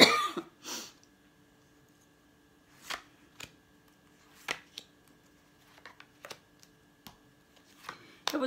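Tarot cards being shuffled and drawn, a series of short, sharp riffling and slapping bursts spaced apart against a quiet background.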